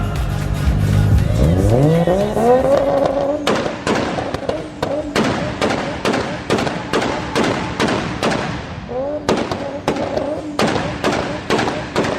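A 1JZ-swapped Nissan S13 revs hard on a 2-step launch limiter: the engine climbs, then rapid loud popping bangs fire in steady bursts, pausing once and resuming, very close and dominant.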